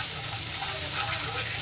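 Green pea paste sizzles as it meets hot spices frying in a pan, giving a steady, close hiss and crackle with light stirring and no talk.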